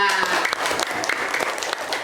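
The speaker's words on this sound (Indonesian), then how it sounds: "Kita tepuk tangan semua." A classroom of students applauding together, a brisk patter of clapping hands with uneven bursts over about two seconds, while a voice carries faintly underneath.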